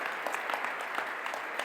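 A room of space agency employees breaks into brief applause, a dense burst of many hands clapping together at close range.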